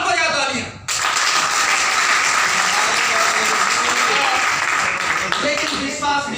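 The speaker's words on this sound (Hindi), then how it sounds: "अब बजा तालियां।" Audience clapping at a business plan presentation, bursting in sharply after a speaking voice and holding as loud, sustained applause, with a voice returning near the end.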